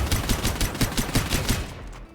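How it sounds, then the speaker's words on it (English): Wildfire, a full-auto drum-fed shotgun in the video game Strinova, firing a rapid stream of about nine booming blasts in steady rhythm, close and loud, before cutting off into a short tail. "She comes with a full auto shotgun named the Wildfire,"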